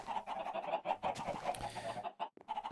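Chickens clucking in the video game Minecraft SkyFactory, a crowded pile of birds making overlapping, rapid clucks and squawks at a moderate, close level with no talk.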